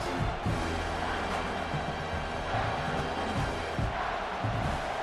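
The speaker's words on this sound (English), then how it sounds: "And the crowd coming to life here, trying to help this defense down in the red zone." Football stadium crowd at an Ohio State vs Michigan college game, a steady roaring wash of cheering and noise that holds loud and dense throughout, swelling as the defense digs in near the goal line.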